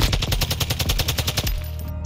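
Rapid automatic fire from a TAC 56 rifle in Call of Duty: Modern Warfare II, a quick burst of about a dozen evenly spaced shots. A short, fading tail follows, with no voices.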